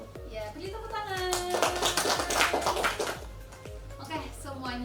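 A class applauds at the close of an Indonesian school lesson, with steady rhythmic clapping running throughout and voices and tonal sound layered over it.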